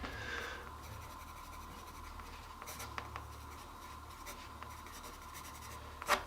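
Pencil scratches softly across a dry watercolor painting to sign it, a brief faint writing sound in a quiet room, with a light tap near the end.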